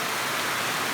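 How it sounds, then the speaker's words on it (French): Rain falling during the rainy season in Costa Rica, a dense, even hiss of heavy downpour, loud and close, with no talk. "La pluie tombe, les grenouilles sont contentes."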